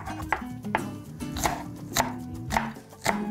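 A dull knife chops leftover vegetables repeatedly on a cutting board, with sharp irregular strikes close by and nothing else in the background.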